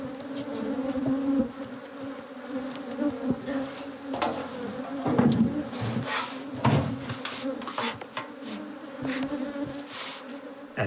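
Bees buzzing around beehives high in the Kaçkar Mountains valley of Turkey, a steady close drone with individual insects swelling louder as they pass near, plus faint rubbing and scraping of wood.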